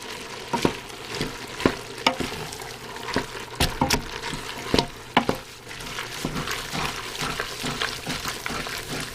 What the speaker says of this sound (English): I am going to add my garlic now, but I am going to turn my heat down